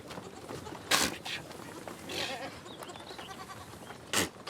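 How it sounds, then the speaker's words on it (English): Goats bleat while their kids suckle, with a few short, fairly close bleats standing out over a busy, rustling farmyard background. "Every morning, Al-Zalfa al-Subi helps her goats suckle their young."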